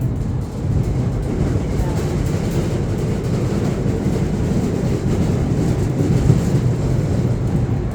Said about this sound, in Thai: อันนี้นี่รถไฟฟ้า BTS ครับกำลังจะจอดเลย